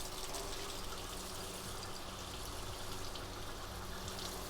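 Hot water runs steadily from a kitchen tap in a continuous, even rushing hiss, close and uninterrupted.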